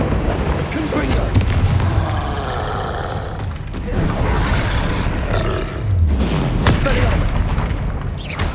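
Booming fiery blasts of the Confringo spell in Hogwarts Legacy, repeated explosions rumbling over continuous battle noise during a troll fight, with a voice shouting the spell.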